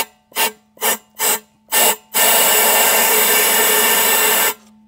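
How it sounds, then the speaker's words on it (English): An air blower is clearing debris out of an RV water heater: four short, loud blasts, then one sustained roaring blast lasting a couple of seconds before it cuts off. "So we're gonna get the air blower and we're gonna blow through this thing."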